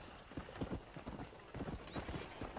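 Horse hooves clip-clop in Red Dead Redemption, a run of rhythmic hoofbeats at moderate distance, with a brief whinny mixed in, steady and unaccompanied by speech.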